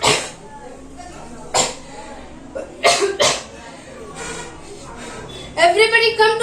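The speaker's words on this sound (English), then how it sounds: "Grandmother is making food on old mud stove and coughing due to excessive amount of" A grandmother cooking over an old mud stove in a skit coughs and sneezes in sharp, separate bursts from the smoke, a few isolated fits followed by a rapid cluster near the end, close and loud.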